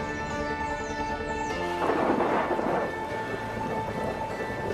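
A tropical thunderstorm over the cloud forests of Colombia's western Andes: steady heavy rain hisses throughout while a deep roll of thunder swells in the middle, loud and enveloping.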